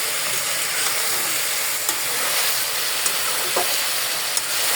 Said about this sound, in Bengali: করলাগুলো অলরেডি আমার ভাজিটা হয়ে আসছে।